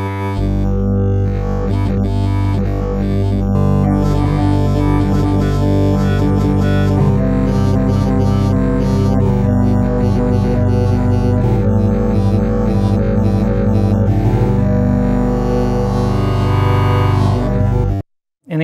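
A buzzy, harmonically rich wavetable synth (ASM Hydrasynth) plays a sustained, shifting chord that morphs and growls continuously, then cuts off abruptly near the end.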